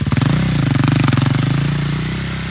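A KTM quad's engine revving hard and steadily during wheelies, loud and close, with a rough pulsing throb that eases slightly toward the end.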